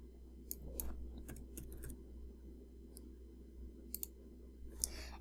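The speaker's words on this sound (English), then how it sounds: "So I'm going to go ahead and click New." Computer mouse clicks during graphic design work, a handful of sharp, faint clicks spread irregularly over a low steady hum, with no talking.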